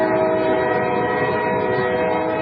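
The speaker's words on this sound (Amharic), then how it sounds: "የባቡሩን ጩኸት" A train rumbles past with a continuous horn blaring over the steady roar of rail cars, loud and close, used as a sound effect in a narrated audiobook.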